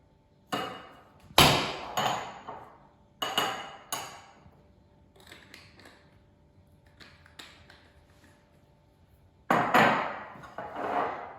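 A spoon works a ground coffee and rose water face mask mixture in a small dish. Sharp clinks and taps against the container come in irregular clusters, separated by quiet gaps and softer scraping.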